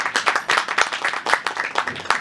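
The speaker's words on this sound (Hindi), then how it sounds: "एक बार जरा और दीपू भाई के लिए जोरदार तालियां बजाइए" An audience at a film trailer launch claps for a cast member, a short burst of irregular, distinct hand claps from a modest crowd, close and moderately loud.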